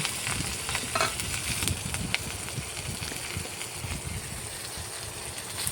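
Green chillies and cumin frying in hot oil for a Bengali fish curry, giving a steady, close sizzle and crackle with occasional louder pops and stirring scrapes throughout.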